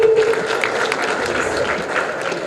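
An audience at a school awareness event gives applause to welcoming students, a sustained wash of many clapping hands with crowd murmur, while a voice speaks over the start.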